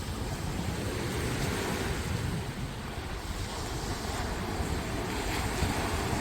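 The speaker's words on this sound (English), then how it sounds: "you just bring your attention back to the sound of the waves" Ocean waves breaking on a shore, a continuous loud wash of surf with steady rushing texture and some wind buffeting, with no voices.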